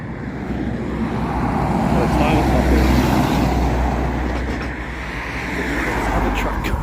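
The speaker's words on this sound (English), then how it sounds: "Other truck comes." A truck passes on a big highway, its roar swelling to a peak and fading against a steady background of traffic noise heard from the roadside.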